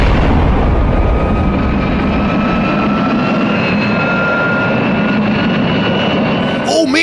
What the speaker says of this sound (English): Oh man, the helicopter!